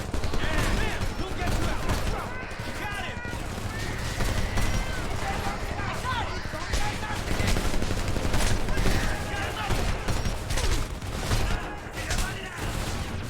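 Enemy gunfire in Homefront rattles in dense, continuous bursts of shots throughout, loud and chaotic, mixed with shouting voices and battle noise.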